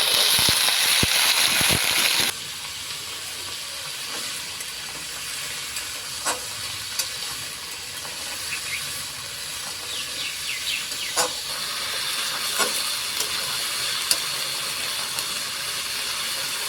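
Washed vegetables and jackfruit seeds drop into hot oil tempered with cumin and ginger paste, setting off a loud, steady frying hiss with occasional crackles, close and continuous, with no talking.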